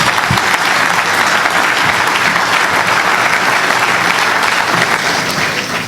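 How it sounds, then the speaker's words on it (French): A full audience claps steadily at the close of a staged trial during an eloquence night, loud and continuous with a faint crowd murmur beneath. "Applaudir encore une fois."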